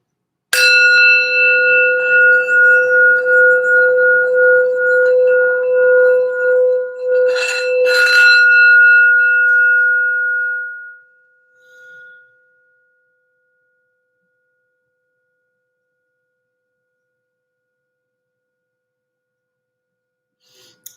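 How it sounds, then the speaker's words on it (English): A single struck bell rings out clearly, its bright overtones sustaining and slowly fading to silence, with a second soft strike midway. "I always start off lately with doing the sound bell for general healing and grounding"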